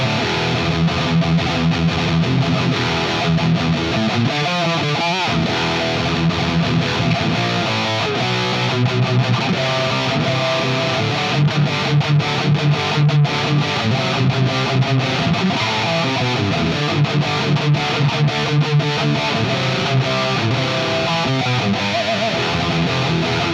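An Ibanez Prestige RG1570 electric guitar on its stock bridge pickup plays a heavily distorted full-on metal tone, with dense, chugging riffs and rhythmic palm-muted stops that run loud and continuous for over twenty seconds.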